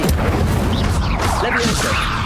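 Fiery spell cast in Hogwarts Legacy, a dense roaring burst with booming, crackling texture that fills the whole moment at close range, with no clear gaps.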